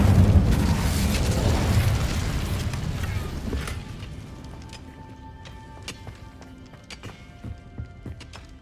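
An Incendio fire spell is cast in Hogwarts Legacy, starting as a loud, roaring whoosh of flame that fades over several seconds into a low crackle with scattered sharp ticks.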